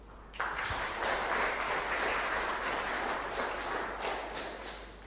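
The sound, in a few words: audience applauding human rights activists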